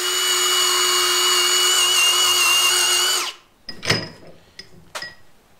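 A power tool cutting down bolts on a utility trailer being turned into a kayak trailer: a loud, steady high-pitched whine for three seconds, then stopping, followed by a few sharp metallic clanks and knocks.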